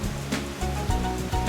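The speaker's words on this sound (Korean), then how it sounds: "폭포는 마치 사람이 만들어 놓은 것처럼 일직선에 가깝다." Jiktan Falls, a wide straight rock ledge 3 to 5 metres high and about 80 metres across, sends water over in a steady, dense roar of rushing water with no voices.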